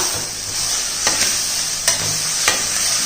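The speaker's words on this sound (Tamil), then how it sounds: "மிளகு தூள் இது எல்லாத்தையும் மிக்ஸ் பண்ணிக்கிறோம்ப்பா" A spoon scrapes and stirs spices into brown rice in a pan over a steady sizzle, with a few sharp clinks against the pan.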